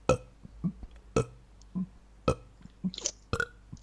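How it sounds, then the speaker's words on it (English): Repeated burping, with a series of short, close belches spaced irregularly over a few seconds and some weaker grunting sounds between them, with no talk. "Burping is not like yawning."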